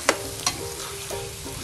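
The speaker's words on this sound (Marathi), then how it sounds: "परत छान परतून घेऊ" Chicken curry masala being stirred and sautéed in oil, giving a soft sizzle with a few sharp scraping clicks of a spoon against the pan, close and fairly quiet.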